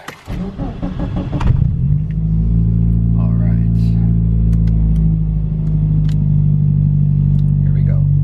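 A Mitsubishi Lancer Evolution 5 engine cranks briefly, catches and settles into a steady, loud, deep idle rumble that holds close to the microphone.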